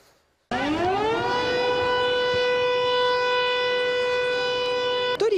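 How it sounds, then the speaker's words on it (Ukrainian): An air raid siren in Ukraine's Cherkasy region winds up quickly and holds a loud, steady wailing tone, then cuts off abruptly at the end. "тестують нову систему оповіщення під час атаки безпілотників"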